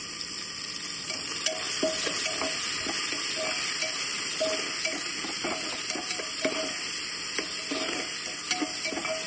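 Vegetables for pav bhaji sautéing in a pan over low gas, with a steady sizzle and repeated scraping and stirring clinks of a spoon against the pan, close and with no talking.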